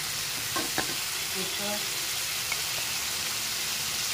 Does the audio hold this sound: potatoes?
yes